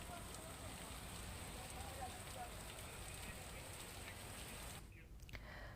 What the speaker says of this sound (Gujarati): સતત વરસાદ વરસી રહ્યો છે